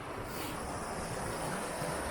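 River water rushes around a person wading into the middle of the Allt Lairig Eilde, a close, steady broadband wash with some wind buffeting the microphone.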